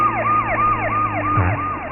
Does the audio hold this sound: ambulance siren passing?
yes